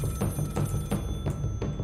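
A telephone bell rings in a horror video game, repeated loud rings in a steady pattern with short gaps, heard alone without talk.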